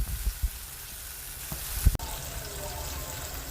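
Chopped tomatoes frying in a pan for homemade chow mein, a steady hiss of sizzling oil with a few sharp clicks of a utensil against the pan.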